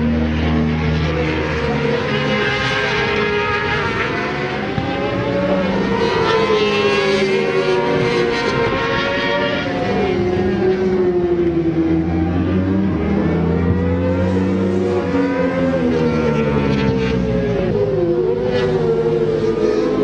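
600cc racing motorcycles scream loudly and continuously as they accelerate onto the straight during a national speed championship race, engine notes rising and overlapping with no pauses.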